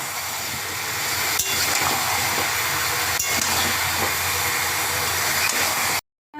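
Chopped onions, about 300 grams, frying in hot oil in a pan for Bengali lemon chicken: a loud, steady, hissing sizzle with faint stirring knocks, cutting off abruptly near the end.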